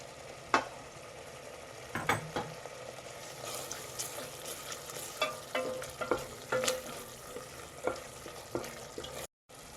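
Masala for chana masala fries in a pan, a soft continuous sizzle punctuated by repeated scraping and tapping of a spoon as it is stirred, close but fairly quiet, with no voices.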